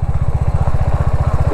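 A motorcycle rides a bumpy dirt road near flower nurseries, its engine thumping in a fast, steady, loud pulse close to the microphone, with no voices over it.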